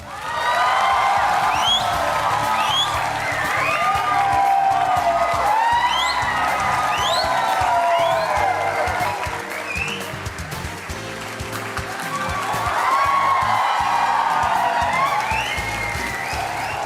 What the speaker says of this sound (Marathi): आणि या टाळ्या अशाच वाजत राहू दे